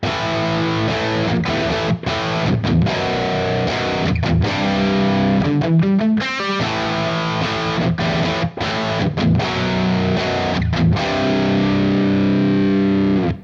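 Heavily distorted electric guitar chugging thick inverted power chords, loud and continuous with a few brief choked pauses and slides.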